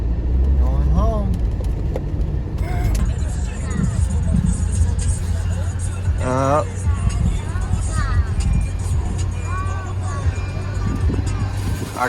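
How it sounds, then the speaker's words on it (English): A car struggling along a sandy Texas beach, its engine laboring in a steady low drone with wind and rumble, while people talk close by over it. "Our car is struggling big time on this beach."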